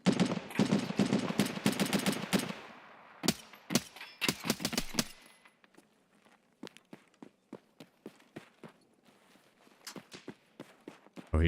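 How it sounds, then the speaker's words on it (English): Gunfire in Escape from Tarkov opens with a rapid burst of sharp shots, then gives way to scattered single cracks and quieter footsteps moving over the ground, with more shots spaced out toward the end. "Oh, he just got sniped at."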